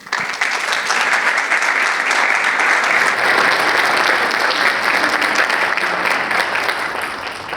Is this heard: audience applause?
yes